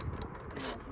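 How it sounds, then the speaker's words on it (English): A ratchet loosens a 12 mm bolt on a 2015 Hyundai Elantra during a headlamp job, giving a close, quick burst of a few metallic clicks in under a second. "Take this 12 millimeter off."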